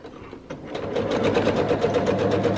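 A sewing machine back stitches along quilt binding, starting with a few slow clicks and then settling into a rapid, even needle rhythm, close and steady.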